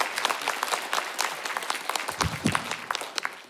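A concert audience in Podolsk applauds an arranger at a live music show, steady crowd applause of many hands at moderate distance, with a brief low thump partway through.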